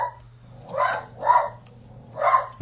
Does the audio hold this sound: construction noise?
no